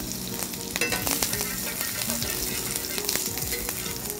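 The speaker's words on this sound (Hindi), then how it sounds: "और इसमें बारीक कटी हुई ही हरी मिर्च डालनी है।" Finely chopped green chillies frying with cumin in desi ghee, a loud, steady, close sizzle and crackle with scraping spoon strokes stirring the pan throughout, and no talking.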